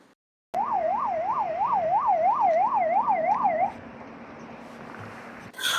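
A wailing ambulance siren rises and falls rapidly and repeatedly, fairly close and loud, then cuts off, leaving a low hum of background noise.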